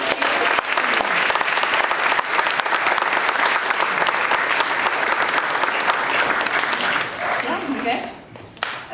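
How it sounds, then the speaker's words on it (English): A forum audience applauds loudly and steadily after a guest speaker interview, a dense wash of clapping that holds for several seconds before thinning out near the end. "and a big round of applause"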